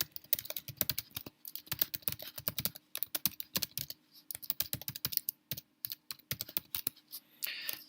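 Rapid, irregular keystrokes on a computer keyboard, close and clear, as a name is typed into a web contact form, with short pauses between bursts.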